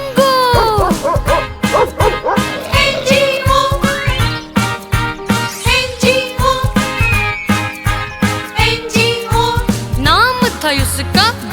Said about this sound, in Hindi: एक कुत्ता था किसान का, नाम था उसका बिंगो।